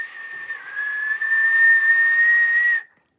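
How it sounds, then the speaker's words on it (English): A person whistles one steady, sustained tone for nearly three seconds, close and clear, with faint rain in the background before it stops abruptly. "I'm whistling."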